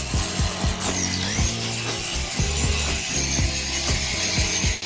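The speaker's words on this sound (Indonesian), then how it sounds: "saya akan mengambil gerinda saya dan mengikis semua logam berkarat di sekitar sini di kedua sisi" A grinder scrapes rusty metal on a Jeep Wrangler body in steady, rhythmic rasping strokes with repeated clicks and a loud, continuous gritty hiss close by, and no one speaks.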